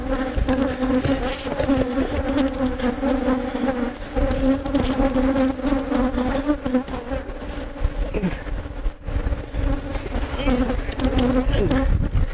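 Honey bees swarm and buzz loudly around a bee vacuum, a dense, steady drone of many wings with rising and falling whines as individual bees pass close, continuous throughout.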